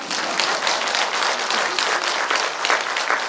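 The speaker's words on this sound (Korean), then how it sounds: "박수 쳐야지 됩니다." A crowd applauds during a Buddhist dharma talk at a monthly temple gathering; dense, sustained clapping fills the room, loud and steady throughout.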